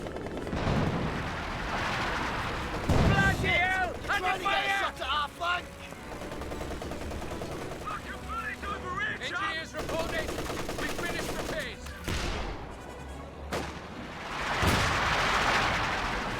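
Gunfire and heavy tank cannon shots from a Cromwell tank in a Company of Heroes 2 1v1 battle, with rapid bursts and loud booms repeating throughout over a dense battlefield din.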